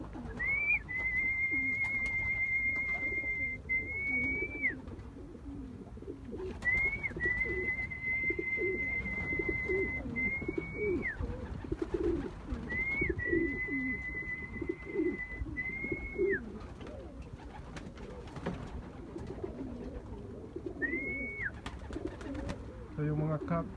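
Pigeons coo in a series of drawn-out calls, four bouts spaced a few seconds apart over steady background noise from the loft.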